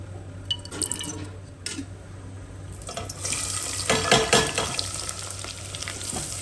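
Cooking oil goes into a hot pan for a home-style chicken curry, just after the seeds, giving a soft trickling splash that builds into a brighter, busier sizzle partway through and keeps going near and steady.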